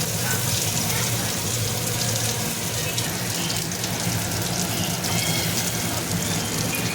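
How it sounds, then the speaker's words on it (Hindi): Mutton shami kababs frying in a pan of oil, a dense continuous sizzle with crackling spatter steady throughout, close and loud, with a voice talking faintly beneath it. "ये देखिए फ्राई करने के लिए रख रहे हैं और इसको फ्राई करना है।"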